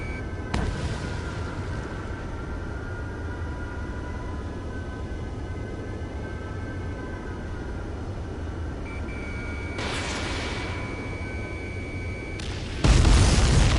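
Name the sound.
missile explosions in video game Air Combat 7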